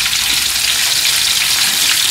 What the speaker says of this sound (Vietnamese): Đây cá chiên các bạn ơi.